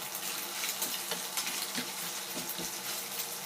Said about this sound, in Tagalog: Gisa muna natin to guys. Fritin natin to ng maayos. Yung chicken.